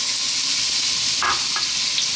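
Sliced white onion sizzles steadily in hot olive oil for a steak sandwich, a continuous close frying hiss with a couple of brief stirring scrapes partway through.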